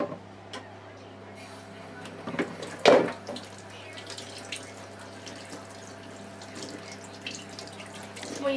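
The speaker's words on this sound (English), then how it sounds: "we need to wash our hands first" Tap water running into a sink during handwashing, a steady soft trickle with one sharp splash or clunk, under a child's and adult's voices.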